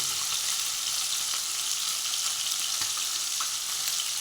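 Small guchi fish fry in hot oil, a dense, steady close sizzle with faint crackles and occasional stirring taps, no talking.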